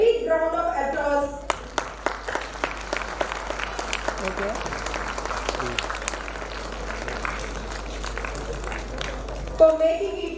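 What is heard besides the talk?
audience applause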